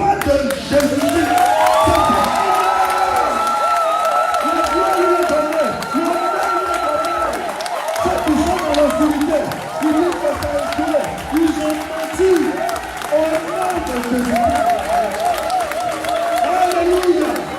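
A church congregation applauds and cheers for several seconds, sustained clapping and crowd voices filling the room, with singing or a leading voice carrying over the noise.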